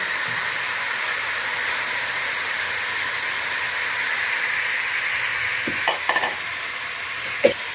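A steady hiss and sizzle of a dal mixture in a hot pan, with a few brief clinks of a utensil stirring near the end.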